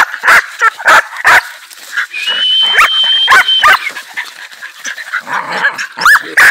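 A hunting dog tied up during training for armadillo hunts barks repeatedly at close range in sharp loud bursts, with whimpers and yelps between the barks.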